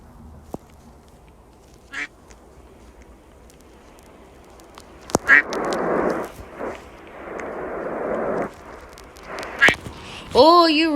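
Cartoonish duck quacks from a Roblox obby game on a bird character, several short quacks scattered among louder in-game bursts and effects, with a longer warbling quack at the end.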